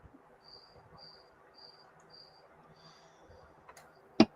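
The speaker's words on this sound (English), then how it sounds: "That cricket would drive me soft if I was listening to him all day." A single cricket gives short, evenly spaced high chirps in a quiet setting, faint to moderate, followed by a sharp click near the end.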